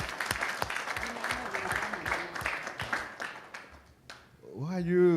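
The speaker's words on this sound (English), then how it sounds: "Can we give big hearty claps to the facilitator and the moderators of this session?" Indoor audience at a conference session clapping for the facilitator and moderators, dense steady applause that thins out and fades, with a voice speaking over it near the end.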